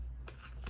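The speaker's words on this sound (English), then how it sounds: "It was creased so nicely that I could just tear that in half." Short creased paper torn in half by hand, two quick dry ripping bursts close up, with no talking.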